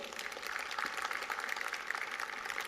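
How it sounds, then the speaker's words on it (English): Crowd applause at a school annual day celebration for Class 5, a steady wash of many hands clapping at moderate volume throughout, with no break. "they deserve a bigger round of applause"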